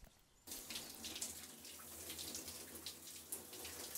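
Tap water suddenly starts gushing into a bathtub, a steady close splashing rush that continues unbroken for several seconds with no voices.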